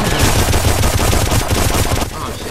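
Rapid, loud machine-gun fire from the shooter game Painkiller Hell & Damnation, a continuous close barrage that eases slightly near the end.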